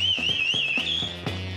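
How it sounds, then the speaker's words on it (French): A shrill whistle is blown as a warning to prisoners, a sustained wavering tone held loud and continuous, with faint rhythmic thumps underneath and no talk. "Siffle pour prévenir les détenus."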